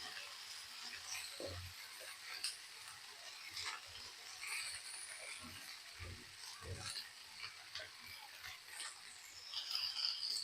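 Sambar powder, chilli powder and salt frying in oil in a pan gives a faint, soft sizzle, broken by scattered clicks and scrapes of a utensil.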